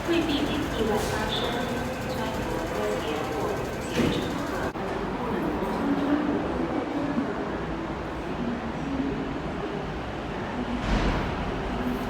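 A train at Sha Tin Station in Hong Kong rumbles on the platform at moderate distance, with a steady rolling hum, brief higher squeals and a sharp shift partway through, while people speak intermittently over it.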